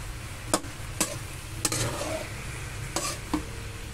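String beans, eggplant and banana blossom stirred in hot oil for pork kare kare, a continuous low sizzle punctuated by several sharp scrapes and clacks of the spatula against the pan, close and unaccompanied by talk.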